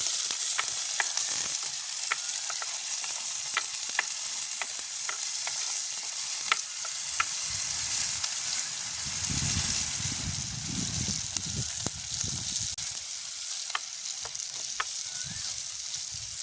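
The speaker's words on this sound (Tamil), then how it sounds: "பச்சை மிளகாய் அதோட வெட்டி வச்சிருக்கிற உள்ளி இப்படியே நல்ல வடிவாக நாங்கள் பழங்கட்டும் கிண்டுவோம்" Green chilli and chopped garlic stir-frying in a pan with steady, close sizzling and a regular run of sharp spatula scrapes, with low bubbling swells partway through; no one talks.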